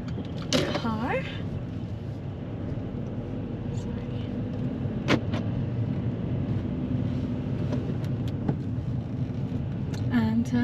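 A car engine rumbles low and steady throughout a driving test, sitting under close conversation inside the vehicle.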